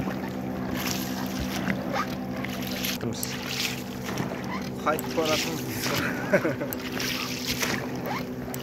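A boat motor from 1993 runs steadily on open water during a fishing outing, a continuous engine drone with wind and water noise, while people talk over it.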